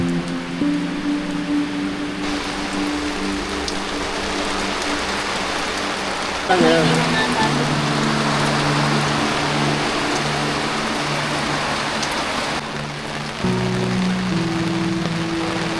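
Heavy rain hisses steadily at a campsite in Sta. Maria, Laguna, with low tonal hums shifting in and out and a brief burst of louder patter midway.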